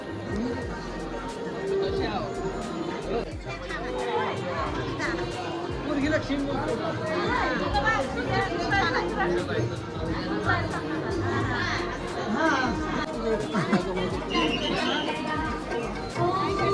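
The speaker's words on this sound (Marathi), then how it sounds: "मंदिर लाईन बघा किती आहे रविवार असल्यामुळे खूप गर्दी आहे" Dense crowd chatter and general hubbub fill a long Sunday queue at the Mahalakshmi temple in Kolhapur, a steady babble of many voices with no single speaker standing out.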